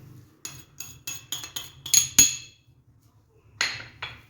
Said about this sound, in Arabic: نحرك حتى تندمج هذيك المكونات